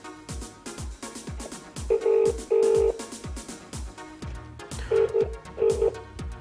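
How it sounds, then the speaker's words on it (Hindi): A smartphone rings with an incoming call from an unfamiliar number, its electronic ringtone sounding in short repeated bursts over a bouncy backing melody, fairly loud and close with no talking. "किसी नंबर से कॉल आ रहा है"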